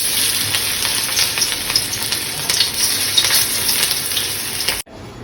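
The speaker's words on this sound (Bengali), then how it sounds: "বেসন দিয়ে এখন গুলগুল করে এভাবে গুলগুল করে তেলে ছেড়ে দেবো।" Banana flower fritters in gram flour batter frying in hot oil give a loud, continuous crackling sizzle that holds steady, then cuts off abruptly near the end.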